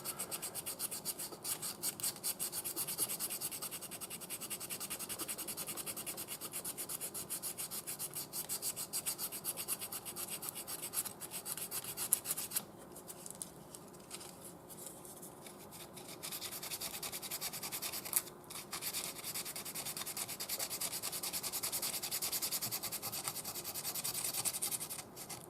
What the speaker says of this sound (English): I'm gonna do it with sandpaper now